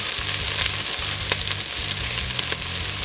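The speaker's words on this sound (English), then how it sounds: "So I'm just going to caramelise some onions." Onions caramelising in a pot on a kamado, sizzling with a dense, even hiss, broken by a few sharp crackles and low clunks of stirring.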